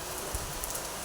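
Steady rainfall patters nearby, a soft even wash of drops with a couple of faint knocks, no one talking.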